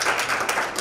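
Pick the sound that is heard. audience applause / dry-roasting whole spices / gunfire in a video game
audience applause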